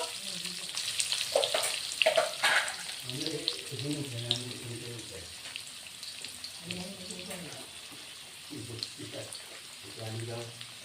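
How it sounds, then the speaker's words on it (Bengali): Potatoes frying in oil for a fish curry, a soft steady sizzle with occasional stirring scrapes, while a person talks over it through much of the stretch. "আলুগুলি অল্প ভেজে নেব"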